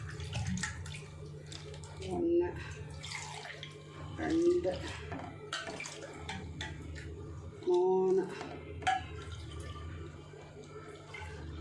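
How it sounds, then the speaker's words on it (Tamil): Cups of water poured into flour batter for onion vadagam, splashing in several separate pours while a voice counts along. "1க்கு 2 கப்பு தண்ணி, 2க்கு 4 கப்பு தண்ணி ஊற்றி நம்ம இதை கரைச்சி வச்சுக்கலாம்"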